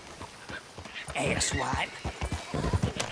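Horse hooves clopping in Red Dead Redemption 2, a few soft steps under a lot of talk from several characters, with the rider's voice over the top.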